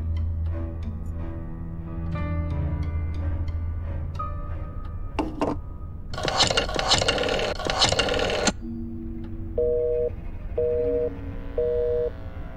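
A telephone busy signal in the 2009 PC game Black Mirror 2 comes as three evenly spaced, steady beeping tones, following a stretch of sustained background music and a louder noisy passage.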